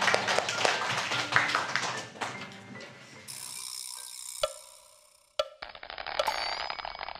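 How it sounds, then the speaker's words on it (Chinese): A television variety-show studio audience gives a short burst of dense applause for the first couple of seconds, then it fades into quieter mechanical ratcheting clicks. "给自己鼓掌"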